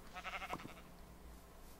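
A Minecraft sheep lets out a brief wavering bleat early on, faint and near, then the rest fades into soft background hum.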